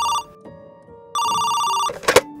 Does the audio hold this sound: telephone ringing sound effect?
yes